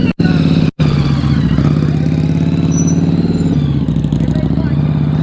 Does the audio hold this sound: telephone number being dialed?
no